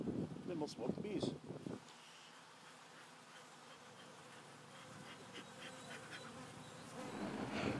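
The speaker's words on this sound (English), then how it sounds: "Then we'll smoke the bees." Bees buzzing around a beehive as the smoker is readied, a thin steady drone that hums on after a voice fades out, with talk returning near the end.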